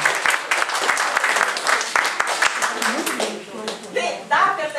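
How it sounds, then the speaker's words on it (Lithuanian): Applause at the close of a festive Lithuanian celebration, a crowd clapping steadily throughout while a speaker talks over it. "jums mūsų aplodismentai"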